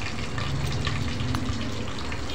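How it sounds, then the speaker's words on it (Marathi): Kashmiri red chili powder sizzling in two spoons of hot oil for a spicy chicken curry, a steady close crackling fry that holds evenly throughout. "काश्मीरी लाल तिखट घालणार आहोत। 2 चमचे तेलात घालायचं आहे।"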